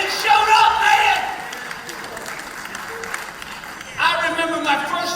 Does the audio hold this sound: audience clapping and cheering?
yes